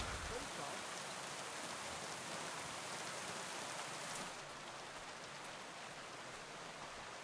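Heavy rain pours steadily in the medieval world of Kingdom Come Deliverance 2, a dense, continuous hiss that softens slightly partway through as if heard from under shelter.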